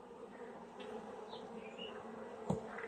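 Young honeybees at the hive, a faint close buzzing with a few individual bees droning past, ending in a brief sharp knock.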